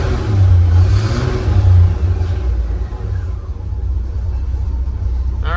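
A car engine idles while warming up, a steady loud rumble close by with a slight surge early on, and no voices.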